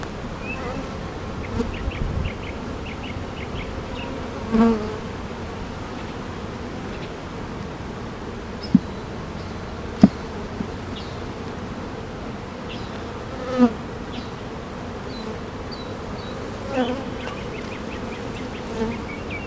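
A honeybee colony getting ready to swarm drones steadily while its hive frames are inspected, with a close, continuous buzz, a few louder passing bees and occasional knocks from handling.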